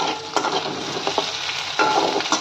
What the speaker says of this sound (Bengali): এখানে দেখো আলু পেঁয়াজ ভেজে নিচ্ছি